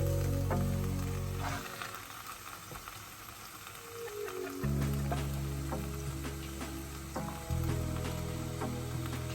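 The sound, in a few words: egusi soup with palm oil cooking in a pot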